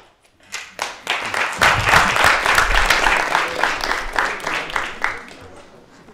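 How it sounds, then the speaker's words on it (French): High school students clap for visiting speakers in a classroom or hall, a few scattered claps building into full, sustained applause that gradually fades. "Vous applaudissez"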